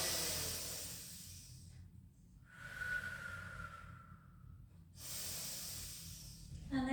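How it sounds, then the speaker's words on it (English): A slow breath drawn in through the nose during a Pilates flow class: a soft, airy inhale of a few seconds, close and fairly quiet, set against faint steady background sound. "Take a breath in through the nose."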